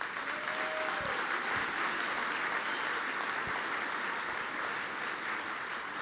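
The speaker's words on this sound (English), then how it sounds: "Let's give them a round of applause." Sustained audience applause after a San Antonio mayoral runoff debate, a steady wash of many hands clapping at even volume throughout, with no speech over it.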